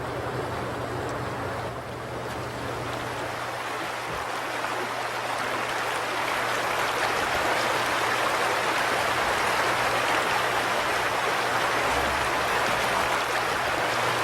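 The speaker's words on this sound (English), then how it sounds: "Listen to the Red Willow Creek." Red Willow Creek flows near Taos Pueblo, fed by melting snow, with a continuous broad rushing and burbling that grows slightly fuller and stays steady with no voices.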